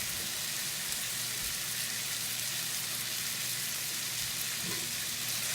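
Thawed shrimp sauteing in a hot pan, a steady close sizzle and crackle running without a break and without voices.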